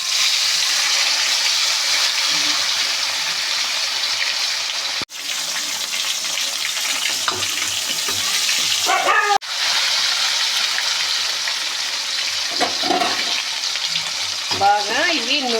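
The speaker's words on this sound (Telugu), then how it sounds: "బాగా ఇవి నూనెలో వేగాలండి." Fish pieces fry in hot oil in a Kadapa-style fish fry, a loud, steady sizzle and crackle heard up close, with faint barking from a dog in the background.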